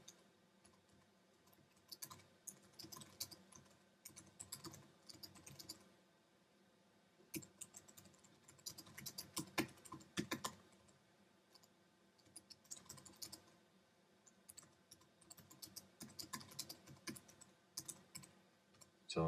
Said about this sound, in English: In here is where I would type in any directions that I want the students to have.